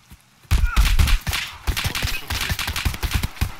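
A burst of rapid gunfire in the video game Escape From Tarkov breaks out after a brief quiet, followed by scattered shots and clatter continuing at close range.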